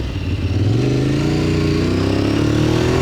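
A motorcycle engine runs steadily while the bike is ridden, set to minimal engine braking, giving a loud, close, continuous drone whose pitch climbs gradually as it accelerates smoothly, with no talking.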